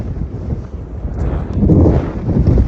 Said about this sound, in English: it's gusting pretty good